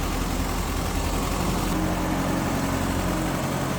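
A 1976 Chevrolet Vega hatchback's 2.3 liter engine runs at a smooth, steady idle, with a constant low rumble close by and nobody talking.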